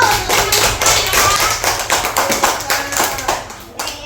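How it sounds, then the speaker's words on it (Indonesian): Audience at an Indonesian religious talk clapping hands, a loud, close, rhythmic patter of claps in quick repeated bursts over a low background hum. "Tepuk tangan dulu"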